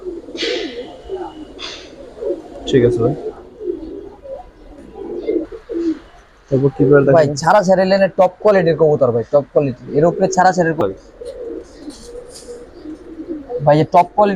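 Giribaz pigeons, large high-flyer birds, coo softly in the background while someone talks throughout, with louder bursts of talk in the second half.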